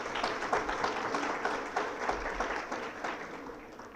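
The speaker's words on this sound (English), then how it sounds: "Can we have a big round of applause for them" Audience applause at an annual retreat gathering, a steady wash of many hands clapping at a moderate distance, fairly faint and continuous for several seconds with no talk over it.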